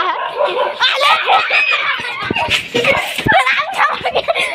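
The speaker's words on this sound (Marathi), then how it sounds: "बघू शकता आमच्या मागे कुत्रे सुटले आहेत" Dogs barking and yipping nearby in a busy outdoor scene, with people talking over them throughout.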